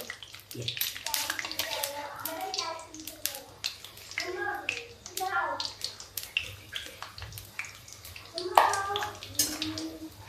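Peanuts and almonds frying in hot oil for village-style dalmoth namkeen, popping and crackling steadily under ongoing talk and a voice.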